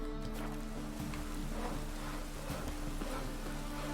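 Rain falls steadily in The Witcher 3, a constant soft patter heard under low ambient music with no talk.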